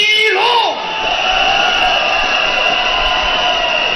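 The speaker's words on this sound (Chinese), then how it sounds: "让我们掌声欢呼声鼓励武僧一" A crowd at a WLF Sanda versus Muay Thai fight night in the United States, Yi Long against Cyrus Washington, opens with loud whoops and yells, then settles into a steady roar of cheering and applause.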